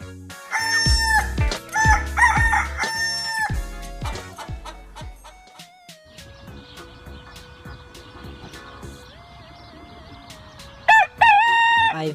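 A rooster crows loudly several times up close, followed by softer clucking and a final crow burst at the end.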